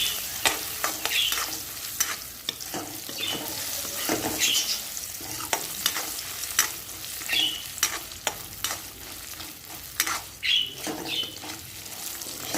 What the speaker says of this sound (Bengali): দু তিন মিনিট ধরে নেড়ে চেড়ে নারকেলটা খুব ভালোভাবে ভেজে নিয়ে তেল থেকে তুলে নিচ্ছি।